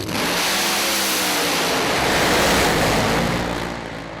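Funny car drag racers launch down the track at a European Funny Car Series event, a continuous roaring engine blast that swells then fades slightly as the cars pull away.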